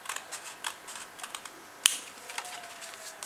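Scissors cut straight across a sheet of paper, making a few soft clicks and one sharp, crisp snip near the middle, quiet and close.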